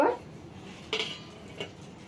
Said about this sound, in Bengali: পুলির জন্য আমি যে মাখাটা মেখে রেখেছিলাম ওটার ঢাকনাটা খুলে নেব